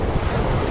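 Wind roars across the microphone beside choppy surf at Fort Zachary Taylor State Park beach, a loud, dense, unbroken rush of air and breaking waves heard alone.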